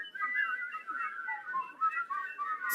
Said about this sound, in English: so I started to whistle cheerfully